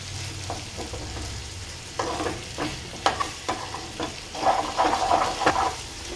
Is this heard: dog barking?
no